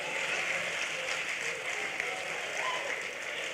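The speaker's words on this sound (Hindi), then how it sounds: "आप लोग जोरदार तालियां बजाइए।" An audience at a Hindi comedy and humorous poetry show claps on request, a dense, even wash of applause that holds steady and fairly soft throughout the short stretch.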